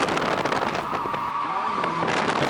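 A drift car skids hard through a clutch-kicked slide, its tires squealing and the engine roaring loudly and continuously over a rough, noisy background.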